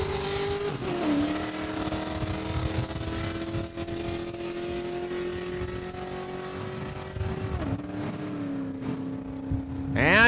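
Blazer dragster at Saskatchewan International Raceway in Saskatoon, a Jay Steele entry on a 1388 dial-in, roars in a sustained, loud engine drone, dipping briefly near the start and again late in the run as gears change.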